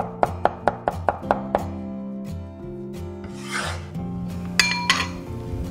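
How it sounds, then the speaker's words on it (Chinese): A knife chopping chili pepper rings, scallions and garlic on a board: a quick run of sharp evenly spaced chops up close, then scraping and shuffling over a low steady hum. "切一些小米椒圈，切一些葱花， 切一些蒜末备用。"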